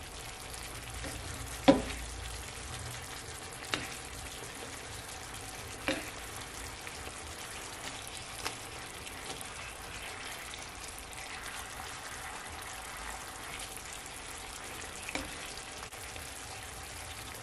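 Chicken thighs frying in honey jerk sauce in a pot, a steady soft sizzle and bubble running throughout, with a few faint clinks and knocks over it and no talking.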